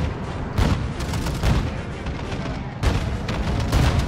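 Tank cannons fire repeatedly as a platoon shoots together in a tank battle game, a dense run of heavy booming shots and crackling blasts, loud and continuous with no talk.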